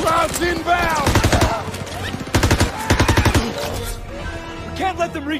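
Rapid bursts of automatic machine-gun fire crackle in quick succession, loud and close, with shouted voices mixed between the volleys in a chaotic battle scene in the video game Call of Duty: WWII.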